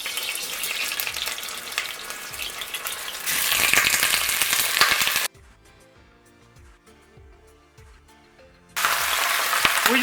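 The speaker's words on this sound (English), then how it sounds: "we just want to get a good sear on all of our oxtail" Oxtail sears in hot olive oil with a loud, dense sizzle, which swells louder midway, drops to a faint crackle for a few seconds, and then surges back to full frying noise.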